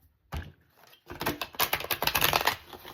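A deck of tarot cards being shuffled by hand, a brief riffle followed by a quick run of rapid papery flicks and slaps close to the microphone, with no talking.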